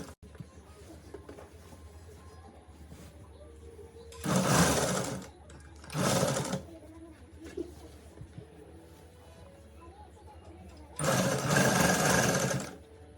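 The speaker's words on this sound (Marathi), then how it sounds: "इथं मी कपडे शिवायला बसली संध्याकाळची" A household sewing machine stitching clothes in the evening runs in three loud bursts of rapid whirring and clatter, separated by quieter stretches with a faint room background and some distant bird cooing.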